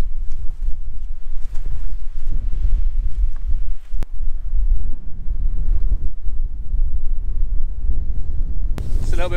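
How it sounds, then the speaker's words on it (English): Strong, gusty wind on a hill ridge in the Peak District buffets the microphone in a continuous low roar, with rushing air and no pauses. "the wind's picked up like previously, so yeah, hopefully we don't get blown away"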